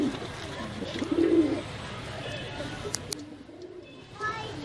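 Breeder pigeons coo softly in low, throaty bursts, mixed with some faint chirps and background rustling, while people talk nearby.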